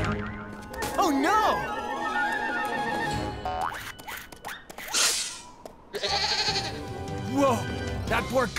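Cartoon baby mountain goat bleats in several wavering, pitch-bending cries on an icy slope, close and loud, mixed with cartoon voices and a springy boing effect.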